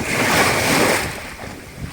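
Waves of the Narmada river wash against the bank in a steady, broad rushing surge, close and loud, mixed with gusty wind buffeting the microphone.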